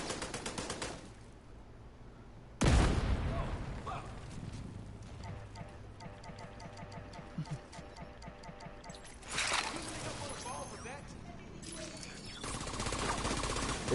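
Gunfire crackles in a Diamond Rank shooter match, rapid bursts and scattered shots with clattering footsteps and game effects, mostly under someone talking.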